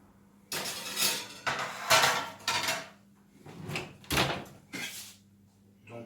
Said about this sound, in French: Je vais mettre mes assiettes au chaud